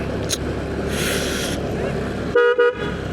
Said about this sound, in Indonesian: Klaksonnya udah kayak tronton gak sih?